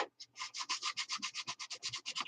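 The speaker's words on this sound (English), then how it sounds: "So I'm going to try and get what I can off with just the regular sandpaper" Hand sanding with regular sandpaper ahead of Bondo work, a quick run of rhythmic rasping strokes, about six per second, close and clear with no talk.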